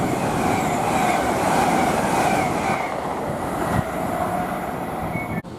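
A Class 345 electric train departing West Ealing station on the Great Western Main Line toward Heathrow Terminal 4, with a steady close rumble of wheels and a rising whine as it pulls away, no talk.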